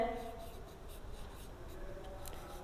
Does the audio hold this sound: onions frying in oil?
no